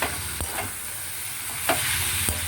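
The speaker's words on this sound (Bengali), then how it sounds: "ঘি দিয়ে আবার এটাকে ভালো করে নেড়ে ছেড়ে আমাকে গ্যাসের ফ্লেমটা বন্ধ করতে হবে" A banana flower curry (mochar ghonto) sizzles in a pan with ghee while being stirred, giving a steady close hiss broken by a few scraping knocks of the spoon, with no voices.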